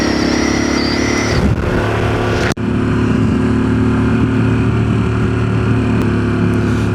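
A Harley-Davidson Pan America Special motorcycle out riding, its engine a steady loud drone with constant wind rush and one brief dropout midway, with no talk over it.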